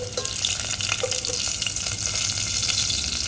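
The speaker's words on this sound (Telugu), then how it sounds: "కొంచెం బాగా తెల్లగా ఫ్రై అయితే తినడానికి బాగుంటుంది పచ్చిమిర్చి." Green chillies fry in hot oil in a pan for gongura rice, giving a steady, close sizzle with light crackles and stirring throughout.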